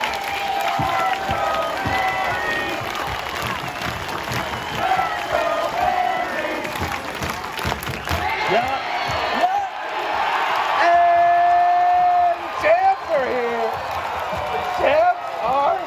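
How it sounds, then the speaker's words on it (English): A packed, sold-out ballpark crowd at a baseball clinching game erupts in sustained cheering, applause and whoops, rising and falling in waves over about sixteen seconds, with voices talking over it at times. "Jubilation, boys. That's what that is. Jubilation. That's that crowd. Packed house."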